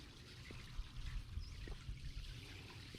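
Pool shock being poured into a backyard swimming pool, a soft continuous trickle and splash of granules hitting the water, steady and close, with faint low outdoor rumble underneath.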